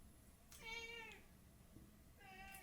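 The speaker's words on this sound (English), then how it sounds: "That cat wants to come in" A cat meows twice from outside a room, wanting to be let in: a drawn-out, clear meow followed by a shorter one, fairly faint over a quiet background hum.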